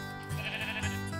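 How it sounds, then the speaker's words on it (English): Sheep bleating in the Minecraft video game, a couple of short blocky bleats close by over a steady game background hum. "There's some sheep over there."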